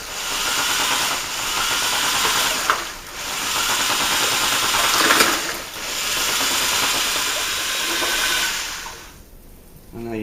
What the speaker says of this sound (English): very carefully with a cleaned mixer, just mix this in dead slowly